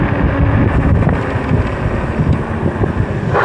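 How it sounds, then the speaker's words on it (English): Strong wind buffets the microphone while riding a dual-motor Aniioki A8 Pro Max e-bike, a constant loud roaring rumble filling the whole clip with no talking. "there's a lot of wind today"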